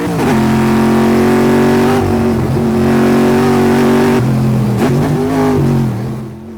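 Race car engine in a hill-climb racing video game, revving loud and close for the whole stretch as the throttle opens over a crest, pitch rising and dropping with each gear and lift, no talk.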